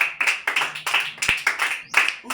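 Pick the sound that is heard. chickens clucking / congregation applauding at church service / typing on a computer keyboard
congregation applauding at church service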